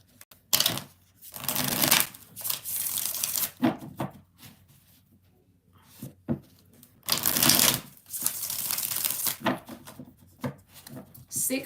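Tarot cards are shuffled by hand in about six crisp, riffling bursts, each a short flurry of papery snaps separated by quiet gaps, close and fairly loud.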